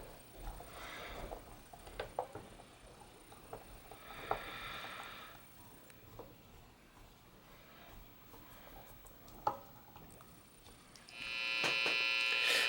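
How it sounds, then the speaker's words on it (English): Pickguard screws go into a Fender Strat with a few faint, scattered clicks in a quiet room, then a close, steady buzzing whir takes over at the end. "Now go ahead and screw in all the pickguard screws that we removed earlier."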